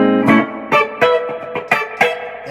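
A guitar strums a slash chord in a quick run of separate attacks, each one ringing out briefly, close and clear with no voice.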